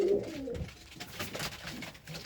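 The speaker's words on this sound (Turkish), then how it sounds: "Tepemde de şimdi bir tane güvercin var." A pigeon coos from overhead in soft low repeated calls, near but not loud, with a background of faint rustling and outdoor noise.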